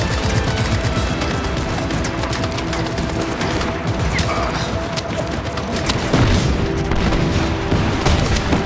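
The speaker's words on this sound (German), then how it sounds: "Was ist denn jetzt explodiert hier?" Explosions and chaotic gunfire in the open-world action game Just Cause 3, a dense, loud, continuous barrage of booms and rattling shots, with someone talking over the din.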